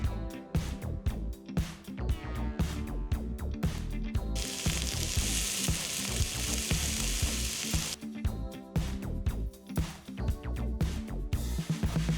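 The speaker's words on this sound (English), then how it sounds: "Time to grill." Lamb for the Hokkaido Genghis Khan dish sizzles loudly on a grill, a dense continuous frying crackle with a burst of hissing spray midway, close and with no voices over it.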